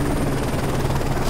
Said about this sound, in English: Enemy chopper closing on your position.